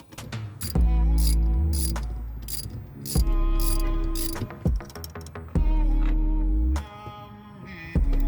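A ratchet tightens a bolt on a car shifter cable during a KTuned race-spec cable install, heard as several close bursts of rapid clicking with pauses between, no talk.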